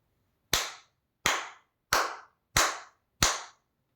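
Five sharp hand claps ring out one at a time at an even, unhurried pace in an otherwise quiet room, each crisp and close with a short decay.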